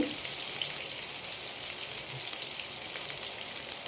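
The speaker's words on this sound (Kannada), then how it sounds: "ಈರುಳ್ಳಿ ಸ್ವಲ್ಪ ಚೆನ್ನಾಗಿ ಫ್ರೈ ಆಗಲಿ." Onions fry in oil in a pressure cooker for a simple vegetable pulao, giving a steady, moderately loud sizzle and crackle that runs evenly throughout.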